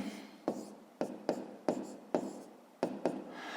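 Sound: writing a math equation by hand

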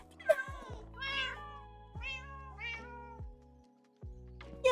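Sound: cats meowing in the video game CrazyCraft (Minecraft)

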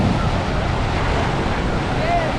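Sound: Caribbean sea waves on a sandy beach

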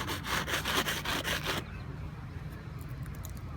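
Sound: scraping an inflatable boat with a spatula

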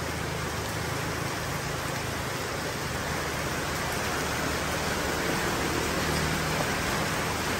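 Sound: heavy rain in Laos

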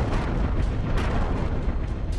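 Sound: explosion from a bomb strike

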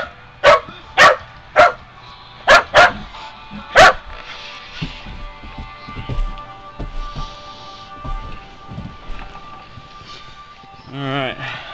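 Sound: dog barking in snow

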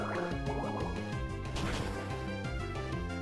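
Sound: Bubble attack sound effect from the video game Pokémon Platinum

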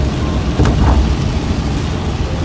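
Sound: heavy rain

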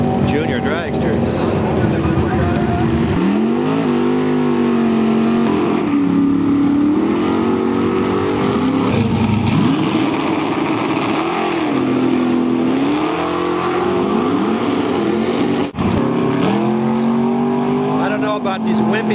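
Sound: drag racing cars launching at Portland International Raceway

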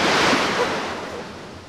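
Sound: strong sea waves

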